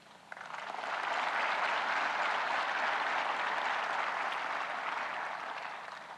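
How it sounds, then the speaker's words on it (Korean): Audience applause at a national police day ceremony, a large crowd clapping steadily, swelling in at the start, holding loud and dense, then easing slightly at the end. "국민의 경찰로 완전히 거듭나려는 경찰의 노력에 아낌없는 격려의 박수를 보냅니다."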